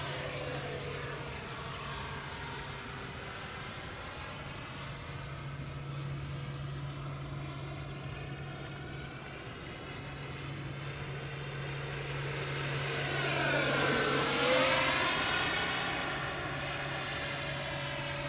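A radio-controlled F/A-18 jet model takes off, its engine a steady whine that swells as the model passes close and loud near the end, then eases away.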